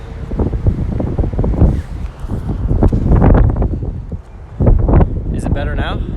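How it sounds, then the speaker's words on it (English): Strong outdoor wind buffets the microphone in heavy, uneven gusts with low rumbling bursts throughout, while a person talks underneath. "It's fucking windy as shit out here."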